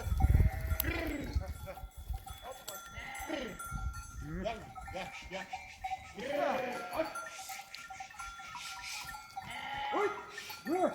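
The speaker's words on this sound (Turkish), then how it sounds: "İşte koyunlar geldi. Bunlar dağda, ormanda yetişen, organik beslenen hayvanlar." A flock of sheep from mountain and forest pastures in the Aegean countryside bleats repeatedly, with several overlapping calls near and far and a cowbell-like clank, while people talk over the animals.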